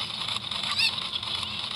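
A cucco chicken from the video game The Legend of Zelda: Ocarina of Time gives a short, honking cluck that peaks briefly in the middle over a faint game background.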